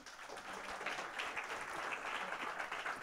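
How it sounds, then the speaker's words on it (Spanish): Steady audience applause fills a marketing presentation, a dense unbroken wash of clapping that holds at an even level throughout, with no voices on top. "entonces le damos un fuerte aplauso"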